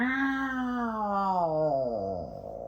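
A voice imitates a long, drawn-out cat meow, starting high and sliding downward in pitch, loud and close.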